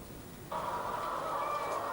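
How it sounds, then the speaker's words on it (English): Battery-caged hens in a British egg-laying shed, a dense chorus of clucking and squawking that starts abruptly and continues steadily, no talk. "More than 20 million hens are kept in battery cages in Britain, laying nearly 3/4 of all the eggs we eat."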